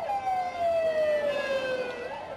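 A single siren tone sweeps slowly downward and then starts back up, steady and fairly loud, with no voices.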